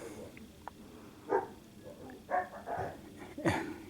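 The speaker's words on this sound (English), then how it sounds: "my dogs are going crazy." Dogs outdoors let out several sharp, separate barks spread across a few seconds against a quiet backdrop, some louder and closer than others, with no talking.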